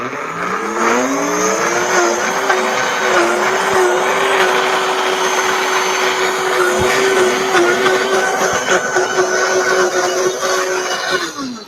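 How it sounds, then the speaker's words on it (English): A high-powered blender runs on pears, a steady loud motor whine with a sustained tone and churning texture throughout, briefly rising at the start and cutting off at the end. "even though this is a high-powered blender and it can take everything at once, I kind of like to just blend it a little bit first"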